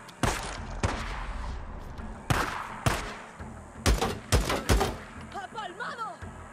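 Several sharp, loud gunshots in Days Gone at irregular intervals, punchy and close, with some game-like effects and a voice speaking between them.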